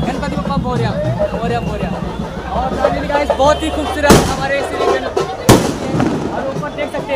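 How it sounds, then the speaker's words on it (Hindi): Firecrackers go off during a Ganesh procession in Mumbai, with two sharp bursts close by that rise above a steady crowd din and nearby talking. "ऊपर देख सकते हैं आपको वहाँ पे पटाखे का आपका आवाज आते रहेंगे"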